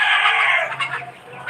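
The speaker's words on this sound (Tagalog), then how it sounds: "sobrang daming manok dito" A large flock of chickens with a rooster, clucking and calling together in a dense, steady chorus close by, with a brief louder burst at the very end.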